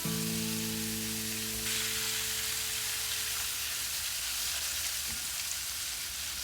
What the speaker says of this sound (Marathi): मग टाकायची आलं लसूणची पेस्ट आणि त्यालाही छान फ्राय करून घ्यायचं